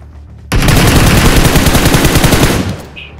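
A sustained burst of automatic gunfire erupts loudly in the mobile shooter game BGMI, rapid shots rattling for about two seconds before cutting off.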